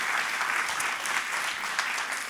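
Dense, steady applause from an audience at a May 2023 storytelling event on an island, loud and continuous throughout with no talking over it.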